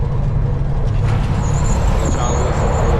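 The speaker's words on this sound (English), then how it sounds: "Let y'all listen to the traffic." Loud, steady road traffic roar heard through open truck windows, dense low rumble of vehicles passing with a faint hiss of brakes.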